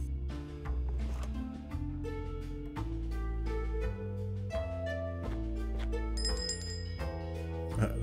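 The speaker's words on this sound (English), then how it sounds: "Bell just rang." A bell rings inside the Shardlight video game, a series of clear metallic tones over soft background music, fairly faint and without talk.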